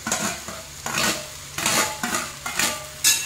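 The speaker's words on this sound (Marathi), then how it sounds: "छान मिक्स करून घेऊया" A spoon scraping and stirring a guar bean and potato curry in a pan with cooked onion and tomato masala, in four or five rhythmic sweeps against the metal, close, with a faint sizzle and no talking.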